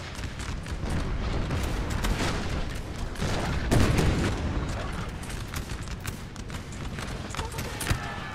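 Massed musket fire rolls through a Napoleon Total War battle at Austerlitz, a dense, continuous crackle of volleys and booms with a rushing battlefield roar, loud and unbroken throughout.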